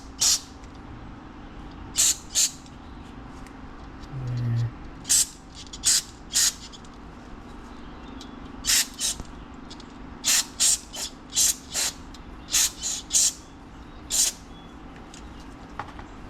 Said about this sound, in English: So let's spray some cleaner in there.